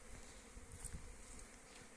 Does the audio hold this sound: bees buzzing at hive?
yes